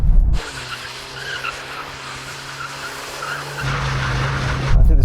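A Volkswagen Golf R slides with its tires skidding and squealing, a loud close engine drone under sustained tire screech that swells louder toward the end.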